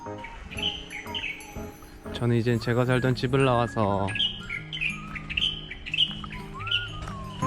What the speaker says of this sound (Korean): 이런 새소리 듣고 막 일어나고 그랬는데